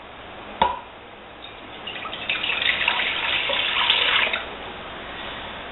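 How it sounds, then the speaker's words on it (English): Tap water pours into a cooking pot in a steady rush lasting a couple of seconds, starting just after a sharp knock and then stopping abruptly. "I'm going to put 5 cups of water into this pot here."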